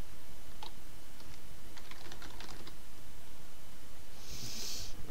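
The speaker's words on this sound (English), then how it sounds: "To make a text overlay, you double click on the screen in here and you just begin typing." Clicky keystrokes on a computer keyboard come in a quick irregular burst, fairly close and moderately quiet over a constant background hiss.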